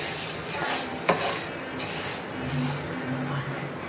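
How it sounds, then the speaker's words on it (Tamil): White sorghum grains dry-roasting in a pan, stirred toward golden: continuous rattling and scraping of small grains against metal with a few sharper clinks, close and moderately loud, no voices. "சைட்லேயே நான் வெள்ளை சோளம் வறுத்துட்ருக்கேன்"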